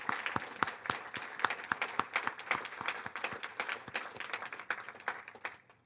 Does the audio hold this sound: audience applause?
yes